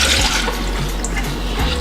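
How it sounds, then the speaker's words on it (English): Water pours steadily into a small saucepan on a kitchen stove, a continuous close splashing rush with no talk. "So I'm just gonna pour the water in."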